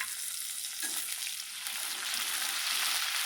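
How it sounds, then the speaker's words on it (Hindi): Onions sizzle and fry steadily in a pan while a vegetable dish is being prepared, a continuous close crackle with a few brief stirring scrapes and no voices. "अब हम इसको लाइट सा फ्राई करते हैं। प्याज लाइट से ब्राउन हो गए हैं।"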